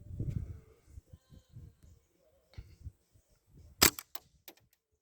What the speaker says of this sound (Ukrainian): Пострілу не чутно, лише звук е, як затвор, щелка, все.